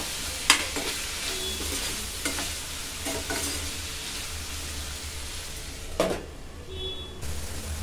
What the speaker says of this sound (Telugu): ఇలా మధ్య మధ్యలో కలుపుతూ ఈ విధంగా మగ్గించుకొని